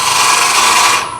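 A lathe tool cuts a taper on a small wooden nesting-box lid, making a loud, continuous scraping rasp that holds steady for about a second before tapering off.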